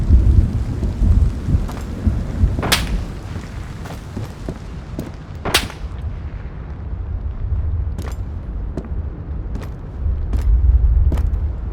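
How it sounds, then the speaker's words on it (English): Steady heavy rain pours through a stormy outdoor scene in the video game Road to Vostok, with rumbling thunder underneath and several sharp, distant gunshot-like cracks spaced out across the stretch. "The rain is not helping."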